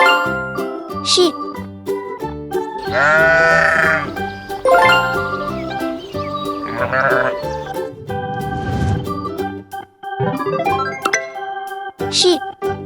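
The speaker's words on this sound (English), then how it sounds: "Sheep." A sheep bleats a few wavering calls over cheerful children's music with jingling tones, the bleats clear and close but mixed into the backing track.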